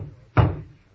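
A single heavy thump on a door in a radio drama, close and dull with a short decay, heard alone.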